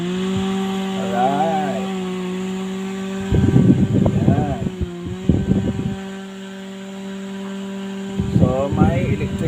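A homemade mini electric fan built from a microwave blower runs with a steady whining hum, while several people talk and react over it close by.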